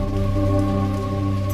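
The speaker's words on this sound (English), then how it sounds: "the rains return to the parched and roasted moon" Steady rain falls on a dry, sun-roasted moon in a documentary-style scene, heard as a continuous, even wash of patter over a low droning bed, with no voices.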